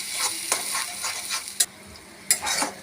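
Green masala paste for a ridge gourd (dodka) dish is stirred as it fries in hot oil, with a soft continuous sizzle and repeated sharp scrapes of the spoon against the pan.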